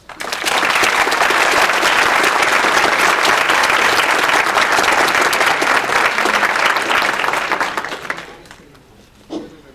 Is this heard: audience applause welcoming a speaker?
yes